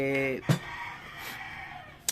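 A rooster crows briefly near the start, then sharp bursts and mixed noise follow, with some voices in the background.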